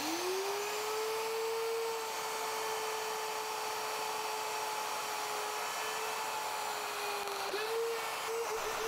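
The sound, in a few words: router cutting mortises in desk legs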